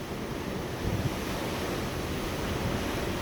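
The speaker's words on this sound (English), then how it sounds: "These are not anywhere near as deep a waves." Ocean waves at sea seen from a cruise ship, a steady broad wash of surf and rushing water mixed with strong wind noise on the microphone, continuous and even throughout with no voices.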